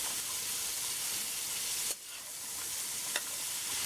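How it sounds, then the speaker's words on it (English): Pimentos, carrots and pumpkin sizzle in a hot pot for Trinidad callaloo, a dense continuous frying hiss broken by a brief stirring scrape and a small clink. "Now you wanna add your pimentoes, the carrots, pumpkin, and just give it a good stir."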